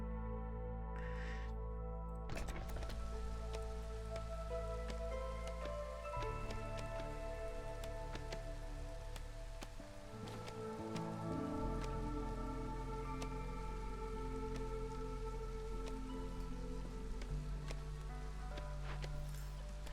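Steady rain falls in the city-building video game Against the Storm, a continuous hiss over layered game music and ambience, with a few faint clicks but no voices.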